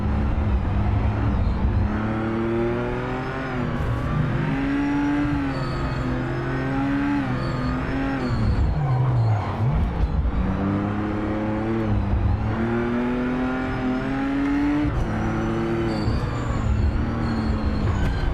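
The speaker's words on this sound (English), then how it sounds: "listen to that 6 litre belting out the power. 6 litre, 6-cylinder." In the Project Motor Racing video game, a 6-litre six-cylinder race car engine roars loud and close, climbing through the revs, briefly dropping on gear changes, then pulling hard again without a break.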